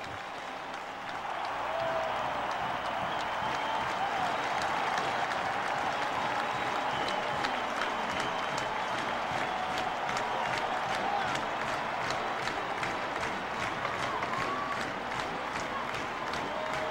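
Sellout crowd applauding at Neyland Stadium during a Georgia versus Tennessee college football game in 2001, sustained loud clapping and cheering from thousands that swells after the first second and stays full and even to the end.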